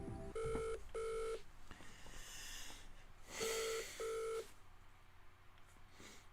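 Electronic telephone ringing on a quiz show as a phone-a-friend call is placed: two pairs of short, steady warbling rings separated by a pause, clear and moderately loud over a faint background hum.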